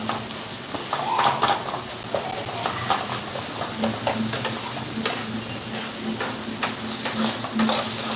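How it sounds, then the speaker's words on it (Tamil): Tomatoes softening in a pan for a spicy sundakkai kara kuzhambu, with a steady close sizzle and frequent scraping and clinking of a spoon against the pan, repeated taps of metal through most of the stretch, no talk. "தக்காளி வதங்கிட்டே இருக்கு"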